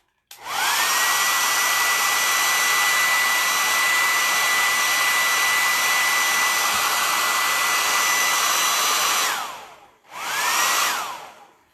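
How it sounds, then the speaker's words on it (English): A hair dryer on its warm setting blows with a steady, loud whirring hum for about nine seconds, cuts off, then briefly starts up again and winds down. "I use it on warm, the hair dryer on warm"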